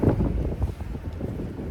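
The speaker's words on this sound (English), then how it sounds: "it's really windy." Strong wind buffets the microphone on a small-town street in Cantanhede, Portugal, a close, low, gusty rumble throughout the brief moment.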